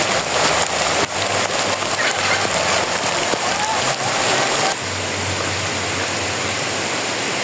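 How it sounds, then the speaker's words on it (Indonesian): Rain falls steadily on a house, a close, dense hiss and patter with a few louder knocks early on; partway through the downpour drops to a softer, more even wash. "Kondisinya sekarang hujan teman-teman,"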